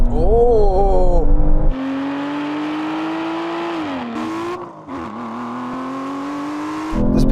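Aston Martin cars launching hard in a half-mile drag race, engines roaring loud and close, pitch climbing steadily through the gears with brief dips at each shift, a short burst of wheelspin at the start.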